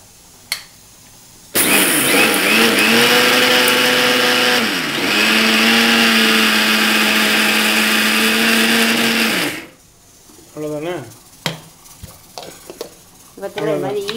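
A mixer grinder whirs loudly and steadily for about eight seconds, its motor pitch dipping briefly, while grinding roasted sesame seed powder, then cuts off, leaving short clattering handling sounds close by.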